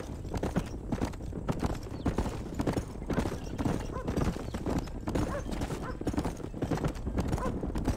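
Horse hooves clip-clopping in a steady close rhythm in the Western game Red Dead Redemption, continuous throughout, with a possible whinny mixed into the busy hoofbeats.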